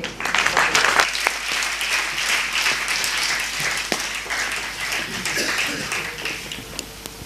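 An auditorium audience applauds steadily to welcome a keynote speaker, Dr. Hegde, to the stage. The dense clapping stays even and sustained from start to finish.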